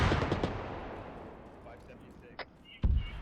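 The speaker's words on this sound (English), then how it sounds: "BMP on the ridgeline straight west. Looking straight at us and now shooting at us." Gunfire from a BMP armored vehicle in a military video game thuds from a distance, a cluster of shots at the start then sparse, sharper reports near the end, with faint radio chatter beneath.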